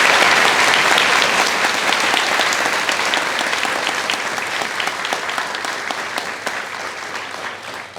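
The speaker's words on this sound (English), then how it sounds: "So please, a round of applause for all of them." Loud, dense applause fills a commencement ceremony hall, a sustained wash of many hands clapping near and far that slowly tapers in strength over eight seconds.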